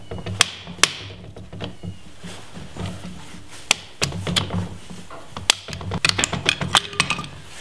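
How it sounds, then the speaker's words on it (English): Metal spring clips are bent and pried off a Jeep Cherokee leaf spring pack in a shop, heard as scattered sharp metallic clanks and taps over a low mechanical hum, close and irregular, with a quicker cluster of clicks near the end. "take these little spring clips off of here"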